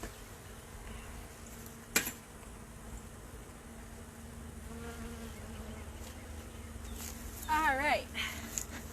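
Honey bees buzzing around a hive in a backyard apiary: a steady soft drone runs throughout, with a sharp knock near the start and a brief louder warbling note near the end.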